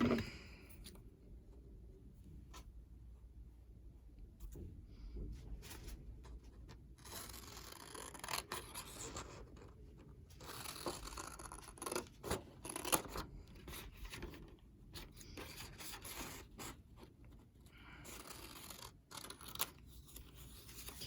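Scissors snipping around a playing card for a craft project, a run of crisp close cuts in short bursts with pauses between, fairly quiet, no talking.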